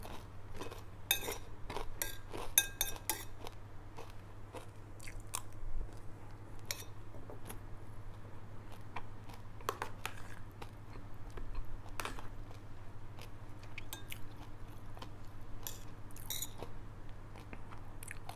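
Crispy sun-dried fried fish eaten with sticky rice makes close, quiet crunching and chewing sounds in irregular bursts, with faint clicks of utensils and no speech.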